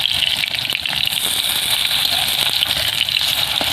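A batch of sesame fritters in ash gourd leaves, turned over in mustard oil, keeps up a rushing, crackling fry, steady and close with scattered pops.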